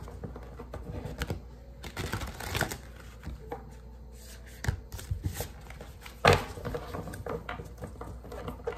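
Tarot cards are shuffled close by in crisp, irregular bursts of riffling and patting, with a few sharper slaps between quieter stretches.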